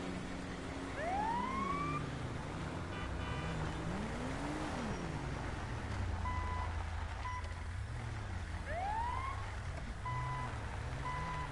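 Ambulance siren in a video game roleplay, with sweeping wails and intermittent beeps over a continuous vehicle hum, fairly faint and without talking.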